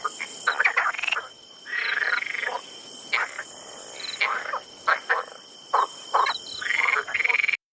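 Synthesized frog croaks in short repeated bursts, some clipped and some drawn out, sounding close and clear with no other sounds around them.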